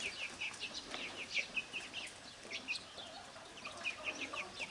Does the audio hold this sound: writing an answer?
no